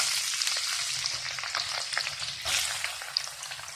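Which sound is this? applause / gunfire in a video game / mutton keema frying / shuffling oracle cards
mutton keema frying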